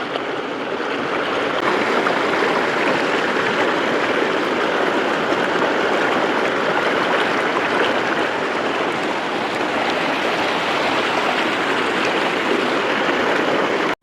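Fast-flowing water of the Reli River on a hike, a loud, steady rushing wash that continues unbroken and close by, with no voices.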